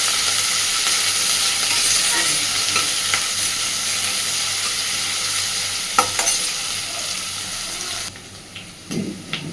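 Onions and green chillies frying in a pan, a steady close sizzle running throughout with a few stirring scrapes, cutting off near the end to leave a couple of soft clinks.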